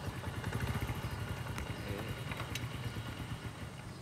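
A motorcycle engine runs steadily close by, giving a continuous low throbbing rumble with light mechanical clatter and no voices.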